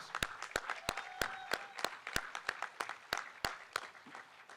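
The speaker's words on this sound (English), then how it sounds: "That's worth a round of applause." Applause at an outdoor transit center celebration ceremony, a modest audience clapping with sharp, regular claps close by, fairly faint overall and lasting a few seconds.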